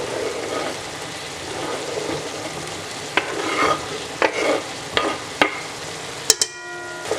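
Sliced onion and diced carrots fry in a pan, giving a soft steady sizzle under a handful of sharp scrapes and clinks as a utensil stirs them.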